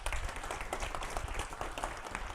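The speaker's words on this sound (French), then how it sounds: "On peut l'applaudir, hein?" Audience clapping for a young runner called up during a French church sermon, a dense steady patter of hands at moderate-to-faint level throughout, with no talk over it.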